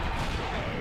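Turret fire in the game Going Commando: steady, loud rapid blasting that fills the whole short moment with booming, crackling shots, no voices.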